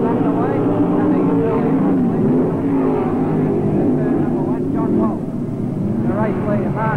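Race cars at the 1984 ASCC round in Rockhampton roar away at the start, with engine notes rising and sweeping past under a commentator's continuous talk.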